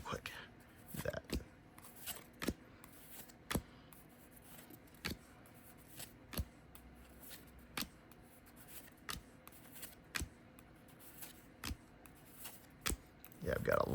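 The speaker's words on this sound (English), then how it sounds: "I'm going to cut and stack real quick." Yu-Gi-Oh trading cards being cut and stacked on a surface, a string of sharp, evenly spaced taps and slaps against a quiet background, close to the listener.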